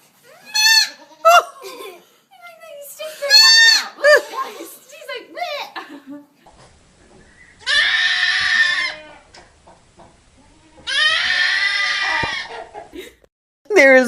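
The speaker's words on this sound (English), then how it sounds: "goats and sheep talking like a human, screaming like a woman" Goats and sheep on a farm let out two long, loud, wavering bleats that sound like human screams, following a stretch of higher voice-like calls and laughter.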